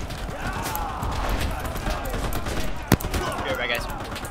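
A shotgun fires in the World War II shooter Enlisted: one sharp, loud blast rings out near the end over steady battlefield noise, with muffled voices in the background.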